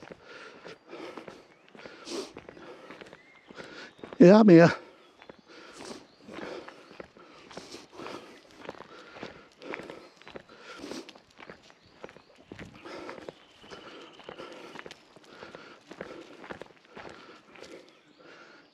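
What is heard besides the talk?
footsteps walking outdoors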